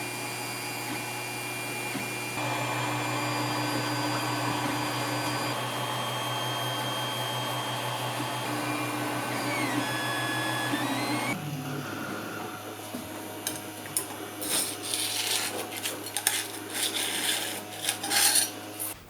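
A 3D printer runs a job on a router table cover plate, its stepper motors whining in steady shifting tones alongside a constant fan hum, then turning busier with scraping, clicking movements toward the end.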